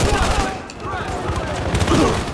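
A G36 rifle fires in Battlefield Hardline, loud rapid bursts of automatic gunfire in quick succession, with a voice faintly audible underneath.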